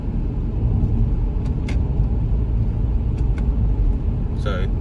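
A 2008 BMW 520d M Sport touring with a 2-litre engine and automatic gearbox drives on after a gear shift, giving a steady low engine and road rumble from inside the cabin throughout.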